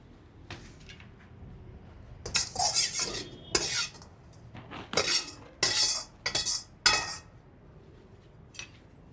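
Spoon scraping and clinking against a plate and pan as kaatu varuval stir-fry is served, a series of close, sharp bursts separated by short quiet gaps.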